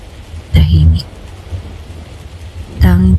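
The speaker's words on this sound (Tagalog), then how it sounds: "Tanging tunog lang ng ulan ang naririnig." Heavy rain pours steadily with low rumbling, and voices come in briefly twice over it.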